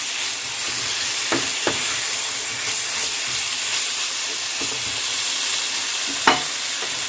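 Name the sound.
sautéing fried potato and pumpkin with spices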